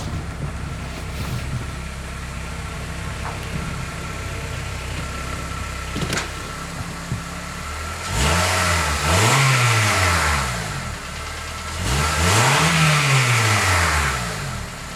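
A Honda Accord track car sits idling roughly, then its engine is revved twice in loud rising and falling surges, with nobody talking.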